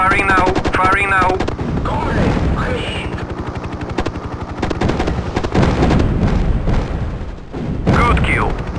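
Rapid helicopter gunfire from a Mi-24 Hind gunship in a 1998 combat flight game, bursts of automatic cannon and booms over steady rotor drone, with radio-style voice callouts layered throughout.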